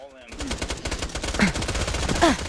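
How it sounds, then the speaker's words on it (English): Rapid automatic gunfire rattles in the video game Tiny Tina's Assault on Dragon's Keep. The dense bursts run throughout, with brief voices over them. "I hear you guys firing away at that guy going crazy."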